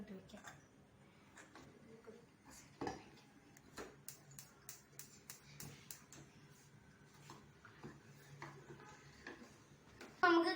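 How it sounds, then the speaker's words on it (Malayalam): Sugar is stirred into an ice cream mixture with a spoon, making faint, regular ticking clinks against the bowl at a steady pace, with a voice briefly audible near the end. "ഇട്ട് കഴിഞ്ഞ് നമുക്കൊന്ന് ഇളക്കി കൊടുക്കാം."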